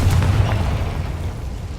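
A Confringo explosive spell bursts in Hogwarts Legacy as a single deep, loud boom that fades quickly into a low rumbling tail.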